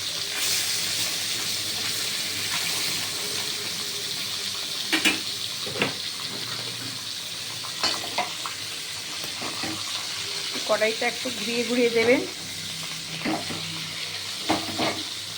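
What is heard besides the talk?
parshe fish frying in oil in a wok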